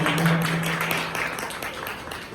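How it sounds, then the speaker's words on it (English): An audience at a cotillion orientation claps in a steady round of applause that eases off slightly toward the end. "Can we get a round of applause?"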